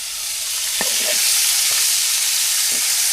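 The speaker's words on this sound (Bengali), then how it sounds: "সবগুলা কিন্তু খুব সুন্দরভাবে আমরা ভেজে নেব একটু তেলটা একটু চারিদিকে নাড়াচাড়া করে দেয়" Fish fry in hot oil on a clay stove in a village kitchen, giving a steady, loud, close sizzle with a few soft scraping stirs.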